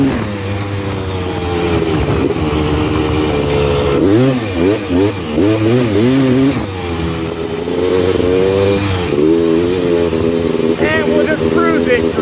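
A Honda TRX330R ATV engine while riding, its revs climbing and falling in repeated surges with a mid-pitched motorcycle-like drone, close and loud, with some voice sounds mixed in.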